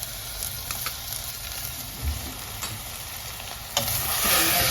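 Diced potato, beans, corn, carrot and capsicum frying in a small pressure cooker, a steady close sizzle with occasional scrapes and stirring clatter, growing a bit louder near the end.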